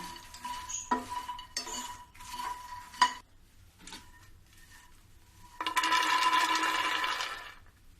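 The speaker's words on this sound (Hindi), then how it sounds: "अब मैं ये मखाना को दूसरे बर्तन में निकाल लूंगी।" Roasted makhana (fox nuts) tipped out of a kadhai into another vessel: a few sharp metallic clinks and knocks, then a dense, rattling pour of the light puffed seeds for about two seconds, close and fairly loud.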